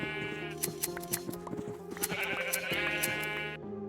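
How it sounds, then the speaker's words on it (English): Sheep in a Minecraft farm bleating repeatedly in short, overlapping, game-style calls over a steady tonal background, fairly close and clear. "Basically, I built a little sheep farm here."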